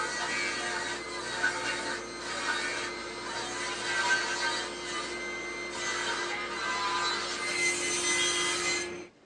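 Wood pieces about 2.5 inches wide are cut for the legs of a homemade bed, with continuous rasping sawing strokes close by that last the whole stretch and stop near the end.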